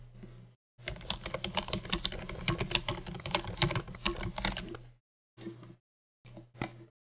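Typing a link on a computer keyboard gives a close, fast run of key clicks lasting several seconds, followed by two short bursts of keystrokes with pauses between, with no talk.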